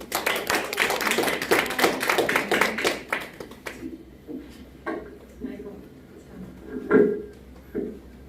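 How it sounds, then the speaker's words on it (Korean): An audience claps to welcome a lecturer at a Korean resident autonomy council session, a dense burst of clapping for about three seconds that then thins to a few scattered claps and taps as a voice begins speaking. "오늘 주민자치회의 구성과 운영이라는 주제로 좋은 강의를 해주실 이수경 강사님을 큰 박수로 환영해 주시기 바랍니다."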